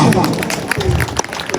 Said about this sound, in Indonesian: Tepuk tangan untuk tuan rumah